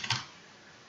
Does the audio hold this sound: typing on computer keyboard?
yes